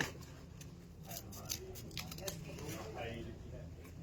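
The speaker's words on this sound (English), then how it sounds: "We have very good scissors." Sharp scissors snip ribbon for a large Valentine's bow in a quick run of crisp, fairly faint cuts, with soft rustling and a voice talking in the background.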